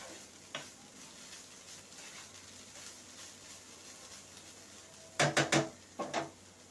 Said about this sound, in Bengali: বড় সাইজের থোড়টা দিয়ে দিলাম, তাড়াতাড়ি ভাজা হয়ে যাবে।